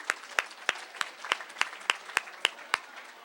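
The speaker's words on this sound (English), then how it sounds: "Give yourselves a big round of applause." Audience members applaud themselves, heard as sparse, evenly spaced claps at a steady rhythm, fairly faint, as though few hands or one pair dominate.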